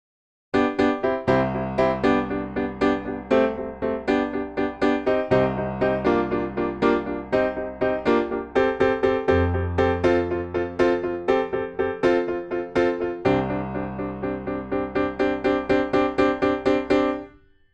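Piano playing the lively intro of a song, steady repeated chords in an even eighth-note rhythm over a bass line, clear and close, no voices.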